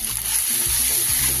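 Ginger-garlic paste sizzles steadily in a hot pan, a close, continuous frying hiss with faint stirring scrapes and no voices.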